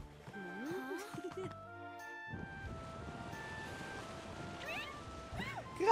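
A winged, flying cat character in Dragon Quest Treasures on the Nintendo Switch lets out several clear, rising and falling meows over game background ambience, with a few gaps between calls.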